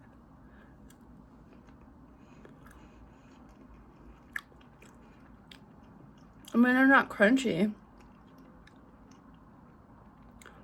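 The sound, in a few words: biting and chewing carrots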